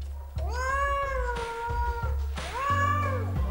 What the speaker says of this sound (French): le miaulement